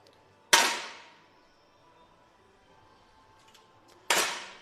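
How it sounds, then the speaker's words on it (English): Two sharp 10m air rifle shots at a European para shooting championship final for visually impaired shooters, each a crisp crack with a short decaying ring, spaced about three and a half seconds apart in a quiet hall. "Manuel Encinas with the first shot of this round."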